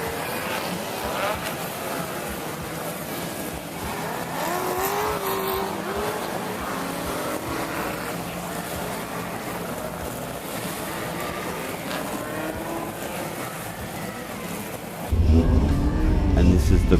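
Historic Australian Group A and Group C muscle cars, including a Holden Gemini and an A9X hatchback, race at the Muscle Car Masters. Engines roar steadily and rise and fall in pitch as they pass, and the sound swells louder near the end.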